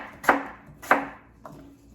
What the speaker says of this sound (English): Go ahead and cut up some more of my apple.